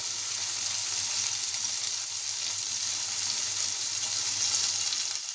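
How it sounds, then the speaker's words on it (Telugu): Paneer curry for a pulusu sizzles steadily in hot oil, a dense, even frying hiss that stays loud and constant throughout with no voices. "ఇట్లా బ్రౌన్ కలర్ వచ్చేంత వరకు వేయించాలండి"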